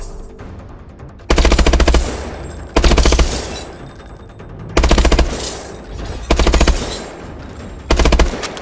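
Automatic weapon fire at a target-training range in the video game Call of Duty: Advanced Warfare, loud sustained bursts repeating roughly every second or two with quieter gaps between.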